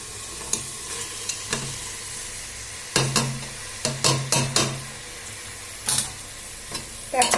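Rice and lentils for khichuri are stirred with spices inside a pressure cooker, giving bursts of scraping and rattling against the metal over a low sizzle, with quieter pauses between strokes and no speech.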